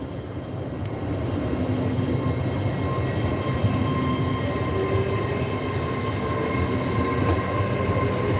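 Class 66 diesel locomotive hauling tarmac wagons through Peterborough, a steady rumbling rail roar with faint clickety-clack, constant and fairly loud throughout without talk.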